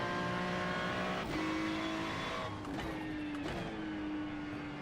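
A race car in iRacing howls at high revs with shifting engine pitch while its rear tyres slide and scrub, a loud, continuous in-car sound with brief gear changes.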